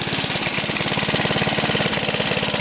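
1966 Briggs engine on a push mower running, a close, loud, steady rapid putter with an even firing rhythm throughout.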